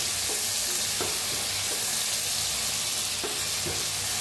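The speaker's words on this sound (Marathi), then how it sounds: "आता मिक्स करून घेऊया" Masala ridge gourd is stirred and fried in a kadhai after the oil has separated, with a steady loud sizzle and occasional scraping stirs of the spoon throughout.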